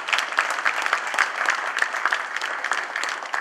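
Audience applause for Dr. Hamilton at a panel event, a steady, dense patter of many hands clapping throughout, fairly close and even, with no talking over it.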